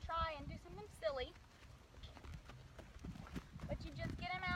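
Hooves of a saddled horse clip-clop on ground in an open arena, a steady string of close knocks running under someone talking throughout.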